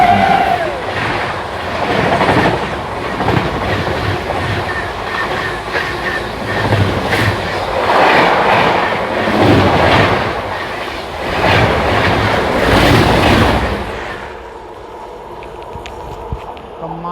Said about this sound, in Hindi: आ चुकी है अपनी दिल्ली अमृतसर इंटरसिटी एक्सप्रेस